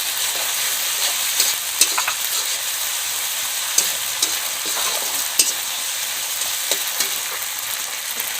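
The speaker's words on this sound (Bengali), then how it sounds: "জিরে বাটাটা ভালোভাবে মিশিয়ে নেব" Cumin paste is stirred into a pan for a Bengali-style fish curry, giving a steady sizzling hiss broken by soft clicks and scrapes from the spoon at irregular intervals.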